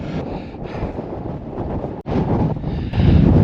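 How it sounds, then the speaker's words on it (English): Strong, gusting wind buffets the microphone on an exposed mountain summit in the Lake District fells, a continuous loud roar that dips briefly and then swells harder toward the end, with no voices. "that wind is absolutely Baltic"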